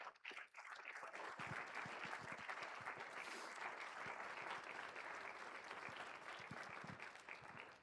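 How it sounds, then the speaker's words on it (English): Sustained audience applause at a college jazz band spring concert, a dense wash of clapping that holds steady and loud for several seconds before tapering slightly at the end. "please, a round of applause for everybody that helps us make these performances"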